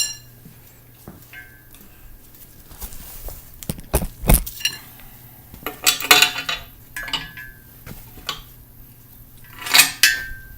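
A bare engine cylinder block is flipped over on a workbench, giving heavy metallic clunks, clanks and scrapes in irregular bursts, loud and close.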